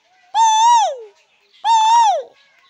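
A man imitates a koel bird's call for a film song: two clear, close, sustained whistled notes that rise and then slide down, separated by a brief pause.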